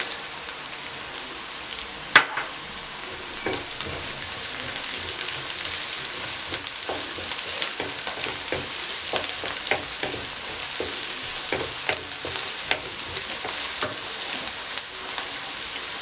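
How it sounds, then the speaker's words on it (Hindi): Garlic and green chilies fry in a pan with a steady, close sizzle and occasional crackles and stirring clicks, with no voices. "लहसुन को आपने हल्का सा फ्राई करना है और साथ सब्ज़ मिर्च डाल देनी है।"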